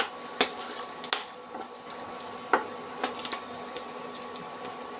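Whole spices and asafoetida tempering in hot oil for an Indian gooseberry (amla) pickle, with scattered crackles and pops standing out over a faint steady sizzle.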